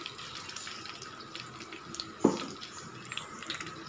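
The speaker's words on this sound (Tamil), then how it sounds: "இப்போ நம்ம செஞ்சு வச்சுருக்க உருளைக்கிழங்க இதில் ஆட் பண்ணிடலாம்." Potatoes drop into hot groundnut oil in a pan and fry with a steady soft hiss, marked by one brief louder splash-like burst partway through.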